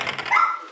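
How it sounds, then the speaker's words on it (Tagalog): A dog gives a short bark or yelp near the house, a single brief sound with nothing else around it. "Ang ingay ng aso, hindi iro."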